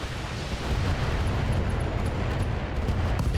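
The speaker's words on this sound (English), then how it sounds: "Ammo explosion." A loud, sustained roar of an ammunition explosion in the BattleTech video game rumbles steadily and heavily with no talk over it.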